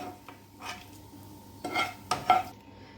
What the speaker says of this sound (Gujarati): જીરાને બહુ થતા વાર નથી લાગતી ફટાફટ સતળાઈ જાય છે